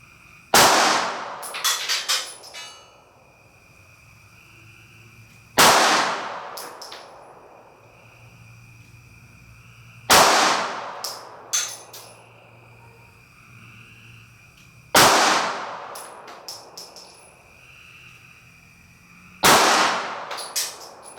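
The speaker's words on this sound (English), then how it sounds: "first 5 shots are from the Glock 19 on bear gel from 10 feet" A Glock 19 pistol fires 9mm defense rounds into bear gel from about ten feet, five sharp loud shots spaced roughly five seconds apart, each ringing briefly with echo before quiet returns.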